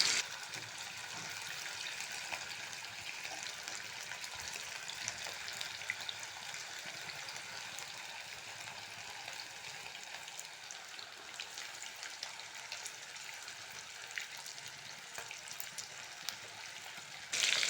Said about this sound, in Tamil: எண்ணெய் நல்லா சூடானதும் இதில் ஒவ்வொரு பீஸாக தனித்தனியாக போட்டு நல்லா பொரித்து எடுத்துக்கலாம்